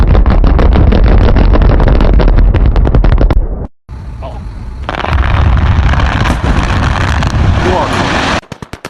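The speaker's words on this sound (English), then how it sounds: "This is large-scale industrial rock blasting in action." Heavy, booming large-scale industrial rock blasting explosions roll through loud and close, with a sharp dropout in the middle before a long rumbling roar that stops abruptly.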